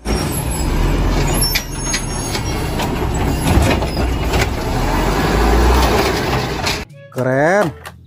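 A garbage truck rolls past on a road, its broad diesel rumble and mechanical clatter loud and steady, ending in a short rising-and-falling tone after a brief break; a voice speaks over it.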